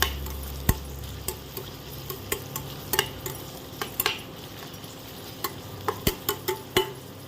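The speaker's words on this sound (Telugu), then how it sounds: "ఈ ఉల్లిగడ్డలు పచ్చిమిరపకాయలు ఒక ఐదు నిమిషాలు ఆయిల్లో మగ్గాలి" Sliced onions and green chillies cooking in oil for an egg curry, a spoon stirring with a run of sharp clicks and scrapes against the pan over a faint sizzle, close with no speech.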